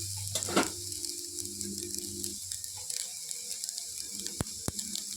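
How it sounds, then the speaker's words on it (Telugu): Cooked rice being stirred with carrots and butter in a pan, soft scraping and sizzling with a couple of sharp clinks of the utensil against the pan near the end. "రైస్ అంతా కూడా ఇందులో వేసి ఇప్పుడు ఇప్పుడు క్యారెట్కి కలిసేలాగా కలుపుతున్నాను"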